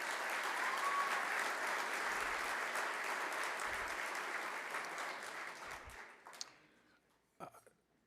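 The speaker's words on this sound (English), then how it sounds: "please, a nice round of applause for our featured speaker, Alexi Lawless." Applause at the Missouri Athletic Club Hermann Trophy awards, a dense, sustained clapping from a banquet audience that fades over the last two seconds into a few scattered claps.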